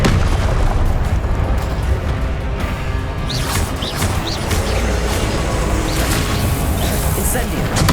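Rapid Incendio fire spells cast in Hogwarts Legacy combat: loud, dense bursts and booming blasts repeating over a constant roar of battle noise, with brief whooshing swells mixed in.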